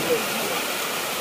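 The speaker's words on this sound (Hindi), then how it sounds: "ये देखो छोटा सा झरना" A small waterfall rushes steadily on a ghat trail, a dense, even wash of falling water that lasts the whole short moment, close by and with no voices.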